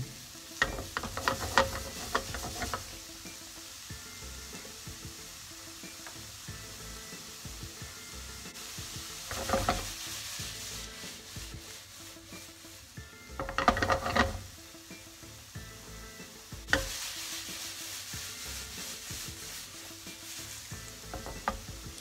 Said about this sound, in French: Ensuite on rajoute donc les poivrons jaunes. Pareil, même principe, on fait bien revenir.